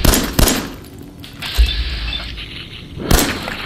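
Gunfire in Fallout 4 on PS5: four sharp, loud shots at uneven intervals, two close together at the start, then one more after a pause and a last one near the end, with dull thuds and ambience between.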